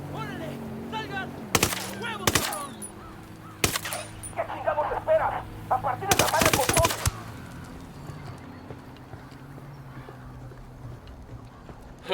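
Bursts of rapid gunfire from Ghost Recon Wildlands, loud sharp volleys clustered in a few short strings with quieter gaps between, set against ambient game sounds and a voice.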